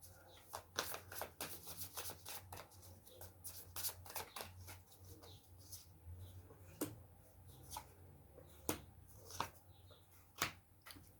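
Tarot cards are shuffled by hand in quiet, irregular riffles and soft snaps, close and faint, with no talking.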